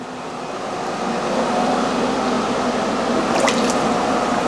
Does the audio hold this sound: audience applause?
no